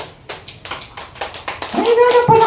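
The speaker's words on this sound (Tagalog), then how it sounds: "So, palakpakan natin si Lord." Church congregation clapping in a steady, rhythmic beat of roughly regular claps, fairly close, with a voice and sustained tones rising in over the last second.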